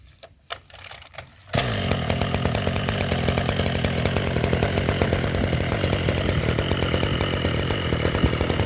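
A Maruyama BC260 small brush cutter engine catches after a few brief rattles, then runs loud and close at a steady buzzing idle with no talking.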